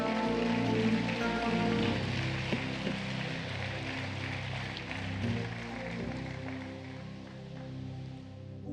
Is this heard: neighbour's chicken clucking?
no